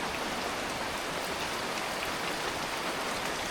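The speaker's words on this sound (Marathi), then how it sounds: "तीन दिवस कंटिन्यू पाऊस लागता पाऊस बघा काय चालू आहे" Steady, dense monsoon rain in a Malvani village pours down with a constant hissing patter on surfaces, even and unbroken throughout.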